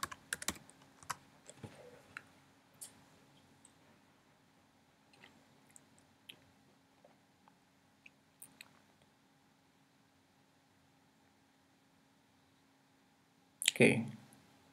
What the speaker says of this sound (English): So just type in there localhost.